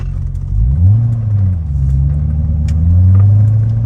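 The LS V8 of a Chevrolet Corvette C6 rumbles deep and loud up close, revving up and settling back twice in rising and falling sweeps, with no talk over it.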